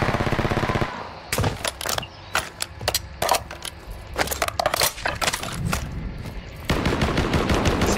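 Rapid bursts of video game gunfire in a multiplayer battle royale shootout, crackling in quick uneven volleys with short pauses, fairly loud and close, with a steadier mechanical rumble at the start and end.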